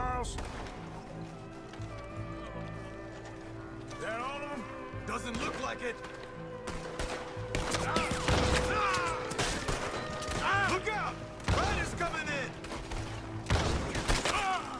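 Shotgun blasts in a Red Dead Redemption 2 shootout, several loud booms mixed with shouting and frantic character voices, chaotic and dense, gunfire and talk overlapping throughout.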